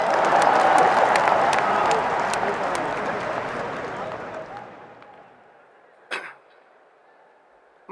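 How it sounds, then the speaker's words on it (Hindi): Crowd applause during a speech in Hindi, a loud dense burst of clapping and cheering that fades over several seconds, followed by a couple of sharp isolated claps. "ठोको ताली।"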